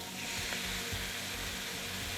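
Steady, close sizzling of soy sauce hitting a hot frying pan with vegetables, a dense hiss with faint crackles throughout.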